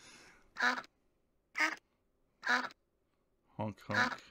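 Ducks quack in The Wind in the Willows Interactive Adventure, a Windows 3.1 computer game: four loud, evenly spaced nasal quacks, then a quick double call, clear and close with quiet gaps between.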